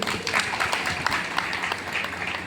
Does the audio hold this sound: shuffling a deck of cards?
no